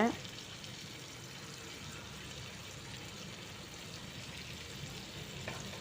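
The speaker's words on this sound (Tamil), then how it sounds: "அதில் கொஞ்சம் எண்ணெயை போட்டு எண்ணெய் நல்லா காஞ்ச அப்புறம் பன்னீர் ஒரு பீஸாக அதில் வச்சு ஃப்ரை பண்ணி எடுத்துக்கலாங்க" Paneer pieces frying in hot oil, a soft steady sizzle that stays faint and even throughout after a brief clatter at the start.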